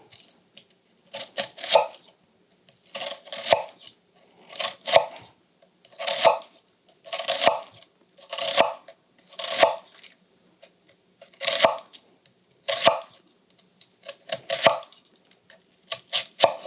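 A knife dices an onion on a cutting board using a claw grip, giving close, crisp chopping in quick rhythmic bursts, roughly ten clusters of rapid chops separated by brief pauses.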